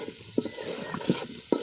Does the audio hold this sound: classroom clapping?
no